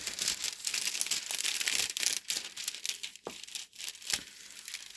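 Clear protective film crinkling and rustling as it is laid back over a 30 x 40 diamond painting canvas, a steady close crackle with a few sharper crinkles.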